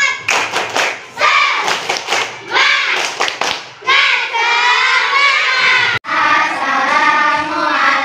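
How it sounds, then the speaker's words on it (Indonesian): A primary-school class doing a rhythmic spirit clap routine together, loud patterned bursts of group clapping and stamping alternating with children chanting and shouting in unison. "Tepuk semangat."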